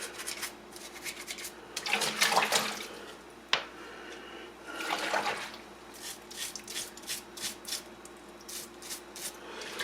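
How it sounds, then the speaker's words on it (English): A brush scrubs small metal parts of a vintage Singer 411G sewing machine in short, soft bristly bursts, with gentle dripping and rubbing between strokes, close and fairly quiet. "A little scrub with the brush."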